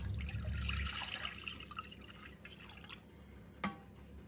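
Water poured into a pot to be boiled for a baking-soda and salt bath for Alsatian pretzel rolls, a steady running, splashing stream followed by a few drips and one sharper splash near the end.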